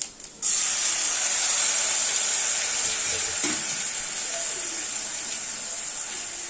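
Water hits a hot pan of frying country chicken masala gravy and sets off a sudden loud hiss, settling into steady, close sizzling and bubbling that continues to the end after a brief quiet moment at the start.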